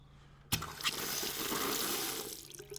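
Tap water runs for rinsing after a straight-razor wet shave, switching on abruptly and then flowing in a steady, close hiss into the sink for a couple of seconds.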